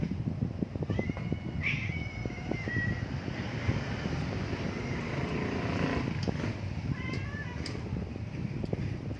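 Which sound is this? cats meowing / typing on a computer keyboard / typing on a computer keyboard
cats meowing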